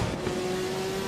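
A race car engine held at full throttle in the Assetto Corsa EVO racing game, a steady loud sustained drone with a high engine tone throughout.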